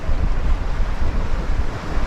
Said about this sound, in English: you can hear the waves. You probably can hear them behind me,